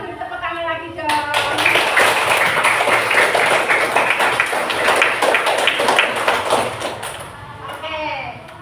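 A classroom of pupils claps for the teacher, a dense, loud burst of hand clapping that lasts about six seconds, with a voice briefly before and after.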